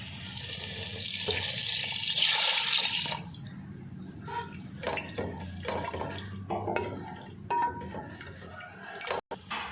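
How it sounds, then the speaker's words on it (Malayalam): Water running from a tap into a rinsed mixer jar, a steady broad splash at first that gives way to lighter clinks and sloshes of the jar being handled in a kitchen while preparing a Kerala-style fish pepper curry. "ജാറ് കഴുകി വെള്ളം ചേർത്ത് കൊടുക്കാം."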